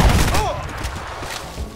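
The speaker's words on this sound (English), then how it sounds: "Someone shooting from behind." Gunfire from behind in the shooter Crysis, a dense burst of loud cracks and thumps at the start that thins into scattered shots, with a voice talking over it.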